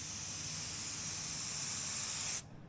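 A spray gun hisses steadily as it applies a thick, quick-drying lacquer finishing coat on a fibreglass body kit, one continuous close burst that cuts off abruptly near the end.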